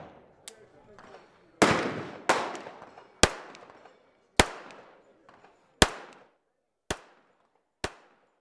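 Colt rifle fired outdoors at the SHOT Show 2009 range, with about eight sharp, loud, separate shots spaced irregularly, some of them echoing, after a brief stretch of soft background sound.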